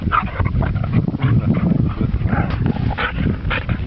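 Dogs barking and yelping in a dense, continuous tumble of sound at close range, with no clear pauses between the bursts.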